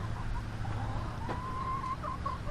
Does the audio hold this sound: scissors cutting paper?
no